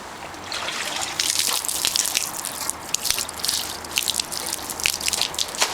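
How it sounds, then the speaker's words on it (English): Water poured over the top of a concrete garden fountain splashes and patters steadily and close, a continuous wet hiss with brief drips breaking through. "let me wet this a little bit for you"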